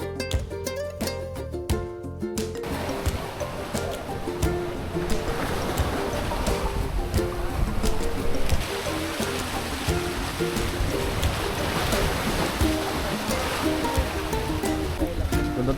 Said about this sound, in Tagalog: Ganda talaga ng dagat dito.